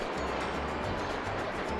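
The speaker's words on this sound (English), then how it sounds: "This is a waterfall." Waterfall in the video game Spyro: Enter the Dragonfly, a steady broadband rush of falling water that holds at an even, continuous level throughout.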